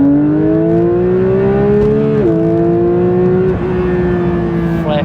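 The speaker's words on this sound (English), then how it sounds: "That is about as good as an engine sound gets in a car" Porsche 911 GT3 engine revving loud and close, a smooth high-pitched wail that climbs, dips briefly at two gear changes, then holds and rises again.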